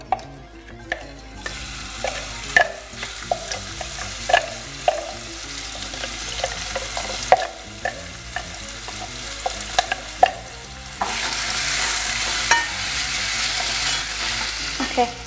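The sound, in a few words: onions frying in hot oil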